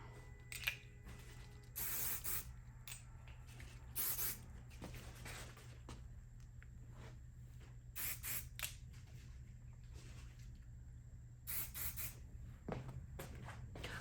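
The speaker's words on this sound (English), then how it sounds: "shake very well and then spray this right at the root to provide lift where we want it" Kenra root-lift spray misted onto hair at the roots, several short hissing bursts separated by pauses and quiet rubbing, close up and with no talking.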